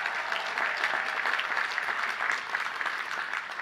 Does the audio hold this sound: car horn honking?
no